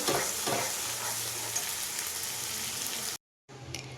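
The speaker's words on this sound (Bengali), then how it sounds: "হলুদটা দেওয়ার পরে আরও এক মিনিট ভালো করে একটু কষিয়ে নেব মশলাটা" Spice masala with turmeric fries and gets stirred in a pan for chicken curry, a dense steady sizzle with scraping stir strokes, cutting out briefly near the end before the frying hiss returns.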